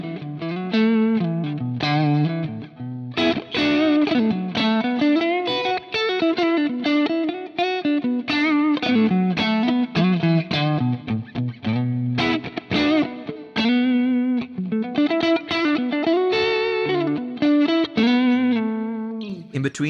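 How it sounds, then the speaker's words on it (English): Electric guitar on its neck pickup plays a continuous distorted riff with a chorus-like shimmer and some reverb, loud and steady for the whole stretch with no talking. "Now, check out these pickups. They sound great."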